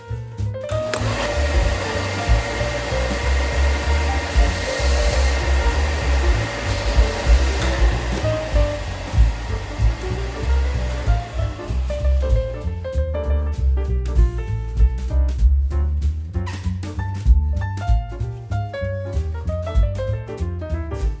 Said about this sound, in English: I'm going to be using my belt sander to remove the excess wood to make the top surface nice and smooth.